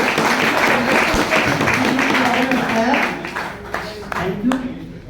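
A seminar audience in Jhajjar claps steadily for Lokesh Sharma, the dense applause filling the room alongside voices and tapering off toward the end.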